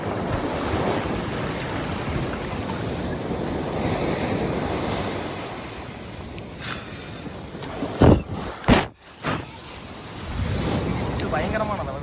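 Sea waves roll and break at Alappuzha Beach on the Kerala coast, a loud continuous surf roar with gusting wind buffeting the microphone, dipping briefly into a few sharp thumps before the surge returns.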